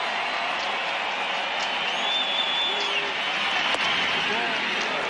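Crowd noise at Coors Field during Game 3 of the 2007 World Series between the Red Sox and Rockies, a broad, sustained roar of fans with scattered claps and whistles, steady and distant-sounding.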